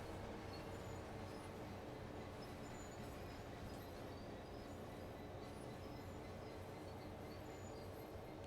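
A train approaching on the Midland Main Line in Train Sim World 4, a faint, steady rumble of rolling wheels with occasional high squeals, distant and continuous, with no talking.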